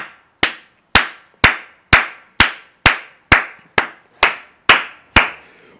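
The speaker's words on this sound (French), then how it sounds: "Est-ce que tu peux acclamer très fort pour la gloire de Dieu?" A church congregation at an evening service claps loudly in steady unison: about eleven sharp, evenly spaced claps, each ringing briefly in a reverberant hall, with no talking.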